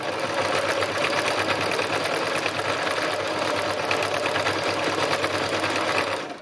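A sewing machine stitches at a steady, fast pace, its dense mechanical whir running continuously and loudly for the whole stretch without a break.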